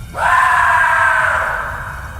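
A drawn-out guttural scream rings loud and alone for about two seconds, sustained and anguished, then slowly fades, set as a sound effect within a horror story reading about a scream echoing through the trees.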